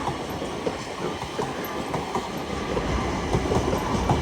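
Class 801 unit 801-204 passing through Doncaster on the East Coast Main Line, a steady rumbling roll of wheels with faint clickety-clack beats, growing slightly louder, no talking.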